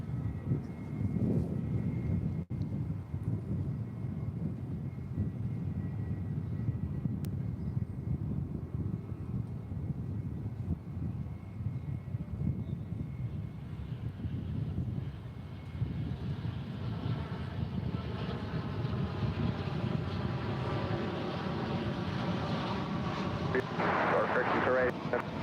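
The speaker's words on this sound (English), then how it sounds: "787-8 Dreamliner coming in from Tokyo Narita" An American Airlines 787-8 Dreamliner arrives from Tokyo Narita, a loud, steady jet engine roar and rumble that swells toward the end, with a person talking over it.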